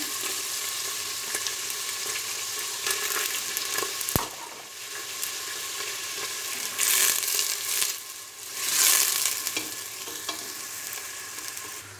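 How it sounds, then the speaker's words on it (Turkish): A steady, dense sizzle of onions sautéing in butter, with occasional stirring scrapes and a sharp clink of a utensil against the pan. "Şöyle güzelce soteleyeceğim bunu. Hafifçe kavurmam gerekiyor."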